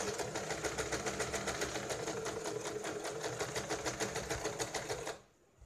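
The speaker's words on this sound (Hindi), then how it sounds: "अब यहाँ पे हम इसकी स्टिचिंग कर लेते हैं।" A sewing machine stitches around the neckline of a baby bib, running in a steady rapid mechanical chatter for about five seconds before stopping abruptly into near silence.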